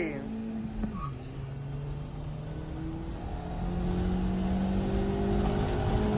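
A diesel car in a street drag race in Bahadurgarh revs and pulls away, its engine tone dipping then climbing steadily as it accelerates, loud and close, with people talking over it.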